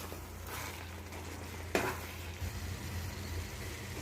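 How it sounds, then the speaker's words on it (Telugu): Gongura curry with fried eggs is stirred in a pan, with a low steady sizzle and soft scraping throughout and one sharp utensil knock partway through. "ఇప్పుడు మనం ముందుగా ఫ్రై చేసుకున్న ఎగ్స్ వేసి బాగా మిక్స్ చేయాలి."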